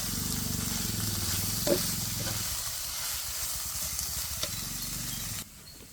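Minced meat frying in spice masala in a pan, a steady close sizzle with soft stirring scrapes, a few brief clicks, ending abruptly in quiet.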